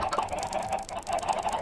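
Many chickens cluck together in a crowded flock within the Minecraft survival game, a steady overlapping clucking chatter across the whole stretch, fairly close and with no talking.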